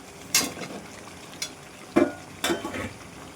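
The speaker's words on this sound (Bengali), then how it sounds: "এবার মাংসের আলুগুলো দিয়ে দেবো" Potatoes going into a pan of frying chicken curry, a few sharp clattering stirs and light sizzle in short bursts spaced across a quiet background, no talk.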